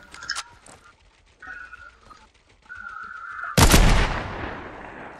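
Gunfire from a favourite weapon in Fortnite, a single loud broadband blast near the end following quieter tonal game sounds and whistles, with a final sharp crack at the close.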